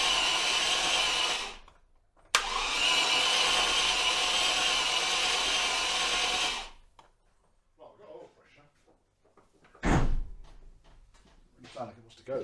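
A 1971 Range Rover engine cranks steadily on a weak battery with cold float chambers for several seconds, pauses, then cranks again before stopping, followed by quieter workshop handling noises and a brief loud burst.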